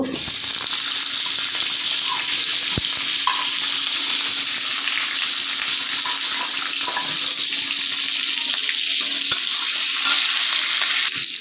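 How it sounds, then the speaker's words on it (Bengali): Chopped onion frying in hot oil in a wok, a steady broadband sizzle that stays close and even throughout with no talking. "কড়াই তেল গরম দিয়ে দিয়েছি, কোচানো পেঁয়াজটাকে দিয়ে দেব"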